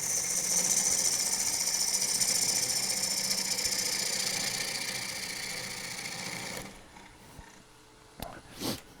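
A woodturning lathe cutting a bowl of hard, dry wood, a steady loud whirring drone with a high hiss that drops away near the end, leaving a few faint knocks, and a voice briefly under it.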